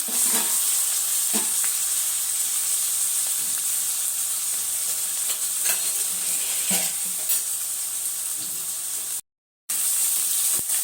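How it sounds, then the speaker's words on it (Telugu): Onions and green chillies fry in about three tablespoons of hot oil, a steady close sizzle and hiss with occasional stirring scrapes, with a brief dropout near the end. "ఆనియన్స్ మొత్తం ఫ్రై అయ్యేంత వరకు ఇలా చేసుకోవాలి"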